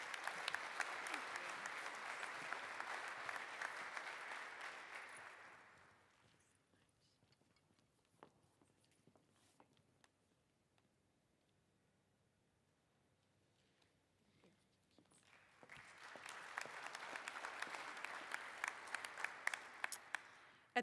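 Loud audience applause at an awards ceremony for a 2025 alumni award, a dense burst of clapping that fades to near silence for several seconds before a second strong round of clapping swells back up.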